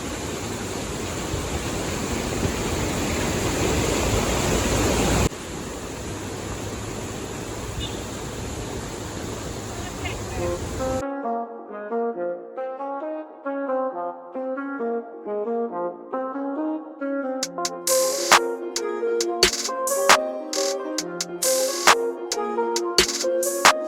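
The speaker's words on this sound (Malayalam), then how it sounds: "കണ്ടില്ലേ, ഈ അരുവിയുടെ സൗണ്ടും" A flowing stream at Vagamon rushes in a steady, broadband wash for about ten seconds before music takes over.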